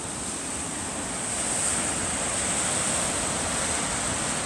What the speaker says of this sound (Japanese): たまに波突っ込んでこなかった？